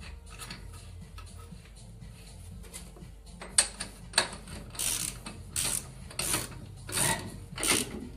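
A ratchet being tightened while trying to extract a stuck 3.5-tonne vehicle, its clicks slow and sparse at first, then turning into louder rhythmic bursts of rasping ratchet strokes.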